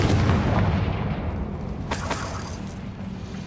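A Confringo fire spell blasting in Hogwarts Legacy: a loud, deep explosive boom that hits hard at the start and rolls off into a long rumbling decay, with sharp crackling debris bursts midway.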